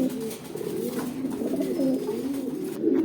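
Two pairs of racing pigeons coo repeatedly at close range in soft, rolling, low-pitched phrases that run almost without pause and carry no talk.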